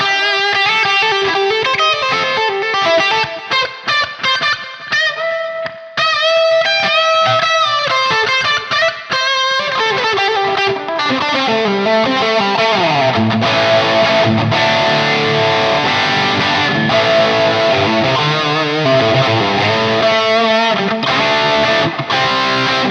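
Distorted electric guitar on a Gibson Les Paul Studio plays a continuous improvised lead, fast runs and sustained bent notes, loud and unaccompanied by voice.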